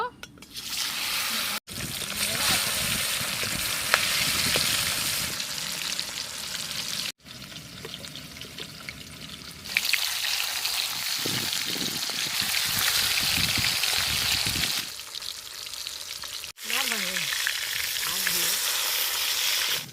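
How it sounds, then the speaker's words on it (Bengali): Fish frying in hot oil until browned: a loud, close, continuous crackling sizzle across several cut-together stretches, with bubbling variations and a faint voice briefly near the end. "তেল গরম হয়ে গেছে, মাছগুলো ভেজে নেব।"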